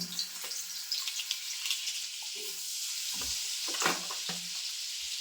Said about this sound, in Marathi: तेल 1 चमचा टाकूया आणि बटर पण टाकूया। बटरचे क्यूब्स टाकून घेऊया